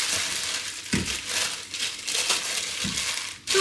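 Plastic packaging of baking potatoes being torn open by hand, with repeated close crinkling and crushing rustles in several bursts.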